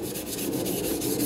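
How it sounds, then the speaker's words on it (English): Steady, close rubbing and rasping in quick, even strokes of wet sanding a car headlight with water, continuous throughout with no voices. "put some water on it and just start sanding"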